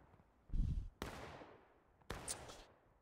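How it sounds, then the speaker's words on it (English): Musket volleys in War of Rights on the Hagerstown map, a few distant shots with a muffled thump then two sharp reports fading into echoing rumble, fairly faint. "I think they're shooting at us."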